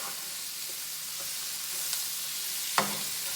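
Snow peas stir-frying in a hot pan, a steady quiet hiss of sizzling with a couple of faint clicks from stirring.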